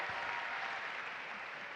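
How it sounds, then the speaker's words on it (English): An audience at an Erasmus+ gathering breaks into applause, a soft, even, continuous patter of many hands heard from a distance and fairly faint throughout. "Huge applause for Lucia"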